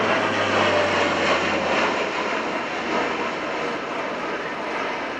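An RAF Atlas transport aircraft flies a display at the RIAT 2018 airshow at Fairford, producing a loud, steady engine roar that holds evenly throughout without a break.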